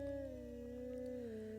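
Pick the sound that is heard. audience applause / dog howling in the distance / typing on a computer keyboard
dog howling in the distance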